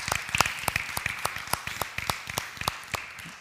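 A small church congregation gives sparse applause, individual claps ringing out clearly and unevenly in a reverberant room, tapering off slightly over a few seconds.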